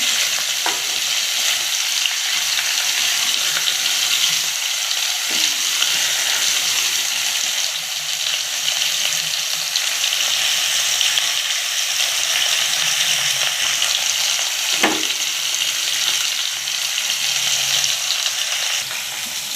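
Potatoes fry in a pan with a loud, continuous sizzle and crackle, close and steady throughout, with occasional stirring scrapes.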